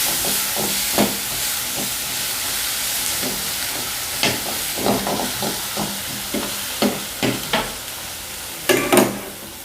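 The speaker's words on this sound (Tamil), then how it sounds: "இஞ்சி பூண்டு பேஸ்ட் போட்டு நல்லா வதக்கிக்கலாம்." Ginger garlic paste frying in a hot pan with onions, a steady sizzle broken by repeated scraping clacks of the spoon as it is stirred, close and fairly loud with no talk.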